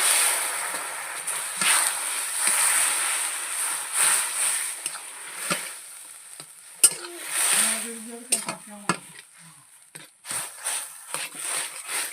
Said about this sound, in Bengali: একটু কালো করে নেড়ে চেড়ে হালকা করে আমি একটু জল দিয়ে দিচ্ছি